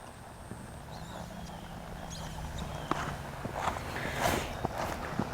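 Horse hooves thud in a loping rhythm under a rider during a riding lesson, a run of soft irregular footfalls growing slightly louder toward the end, with faint background noise and no clear talk.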